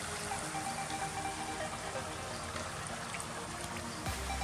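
River water flows and trickles close by during water sampling, a faint continuous burbling stream with no speech.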